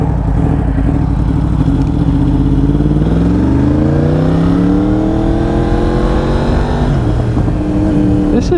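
A new-generation Yamaha R1 sport motorcycle engine revs loud and close, pitch climbing steadily through the gears, with a deep, rasping exhaust note throughout.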